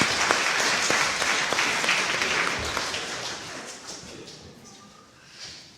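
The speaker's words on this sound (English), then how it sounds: "They deserve a round of applause" A church congregation applauds its volunteers, a dense wash of clapping that holds steady, then thins and fades out over the last couple of seconds.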